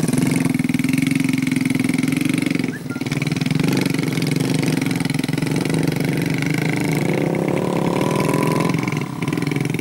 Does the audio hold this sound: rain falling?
no